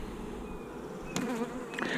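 Honey bees buzz steadily around an open hive during an inspection, a dense close drone that swells in bursts as individual insects pass near.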